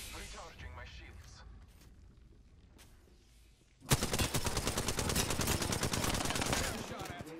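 Rapid automatic gunfire in a shooter video game bursts in loud and dense midway, following a quieter stretch of muffled voices and ambient game sound, then keeps rattling steadily to the end.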